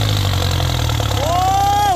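Massey Ferguson turbo tractor engine pushing dirt in second gear, a steady loud diesel rumble with a rising whine near the end, while someone talks over it.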